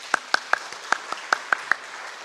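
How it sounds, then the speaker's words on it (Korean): Sparse clapping greets Thai church members at a Wednesday night church service, about eight distinct claps spaced irregularly across two seconds, fairly quiet with a faint room tail and no talking. "박수로 환영합시다"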